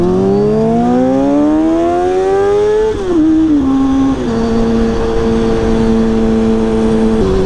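A small motorbike engine revs close and loud, pitch climbing steadily, then dipping and settling into a sustained high drone.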